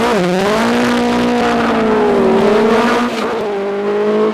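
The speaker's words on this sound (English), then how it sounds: "this is perhaps the definitive F2 Brabham" A Brabham BT21 Formula 2 race car with a twin-cam engine roars at close range on a hillclimb course, holding a loud, steady high-pitched engine note with slight pitch shifts through gear changes.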